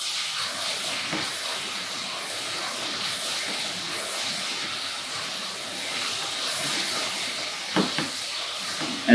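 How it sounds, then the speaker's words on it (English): Onions for French onion soup sweat in a pan with a soft, steady hiss and quiet sizzle, faint and even throughout, with a few small clicks near the end. "As the onions are sweating"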